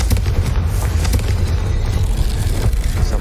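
A loud, booming Confringo spell blast in the Hogwarts Legacy video game, a dense rumbling burst that fills the moment with no talking over it.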